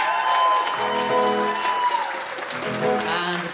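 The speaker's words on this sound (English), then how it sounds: "Nice big round of applause." A festival crowd claps for a performing ensemble, producing a continuous patter of applause that is heard along with tonal, voice-like sounds.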